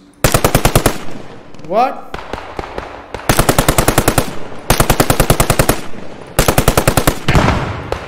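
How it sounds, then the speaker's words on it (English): Machine gun fire in the WWII shooter Post Scriptum, loud rapid bursts of gunshots in several long strings with short gaps, a brief voice exclaiming between bursts. "I'm shooting through the windows, but I can't hit him."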